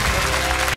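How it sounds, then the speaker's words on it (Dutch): Studio audience applause at a Dutch late-night talk show, a dense steady wash of clapping that fills the short clip and then stops abruptly near the end. "Mag ik een heel groot applaus voor Mark van Rand."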